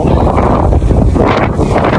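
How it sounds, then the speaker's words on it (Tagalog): Strong wind roars and buffets loudly and continuously, with gusty rumbling right up close. "grabe lakas yung hangin oh"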